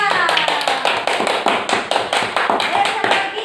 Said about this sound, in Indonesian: Tepuk tangan untuk Iva.